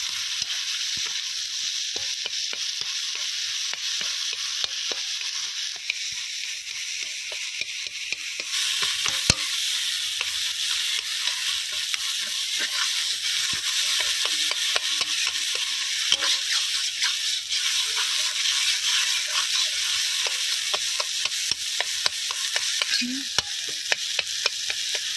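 Boiled potatoes are stirred into fried onion, green chilies and dried red chilies in a pan for aloo bhorta, giving a continuous hiss of sizzling oil broken by steady scraping and tapping from the stirring spoon.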